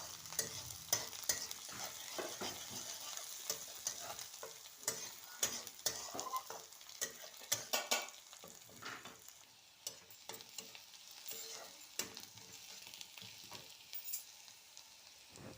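Chopped chilli frying for a veg momo filling, with steady sizzling and stirring clatter from a pan throughout, close and moderately loud, with no talking.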